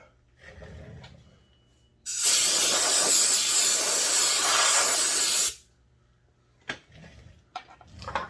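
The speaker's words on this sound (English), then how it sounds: "just a little bit of light penetrating oil. That'll help keep that grease wet." A single sustained spray burst of light penetrating oil onto a McCulloch Pro Mac chainsaw recoil, loud and close, lasting about three seconds with quiet handling clatter before and after.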